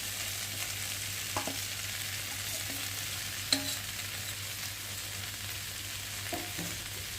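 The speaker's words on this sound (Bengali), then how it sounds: "মশলা দিয়ে কষানো হয়ে গেছে আর ভেজে রাখা চিনি মাছগুলোকে দিয়ে দেবো" Chini fish fried earlier are added to a pan of spice paste for a Bengali pui shak chorchori, giving a low steady sizzle with a few soft stirring knocks, close and alone with no talk.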